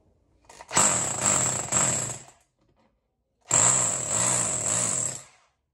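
A rotary hammer drill running in hammer drilling mode, two loud bursts of about two seconds each separated by a short pause, with a rapid percussive rattle over a steady motor whine, close and alone.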